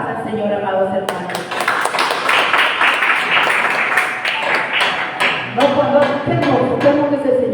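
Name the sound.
congregation clapping hands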